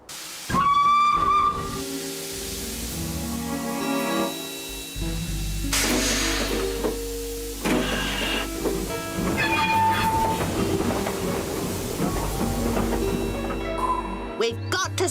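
A steam train on a cartoon railway gives a loud whistle, then hisses steam and clatters along the rails. Several characters talk over the noise.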